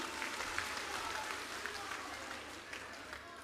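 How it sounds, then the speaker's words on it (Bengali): A crowd claps steadily and densely throughout for Suvendu Adhikari at a BJP rally in Bankura, a sustained wash of applause with no break. "জোরে হাততালির মাধ্যমে সম্মান জানান"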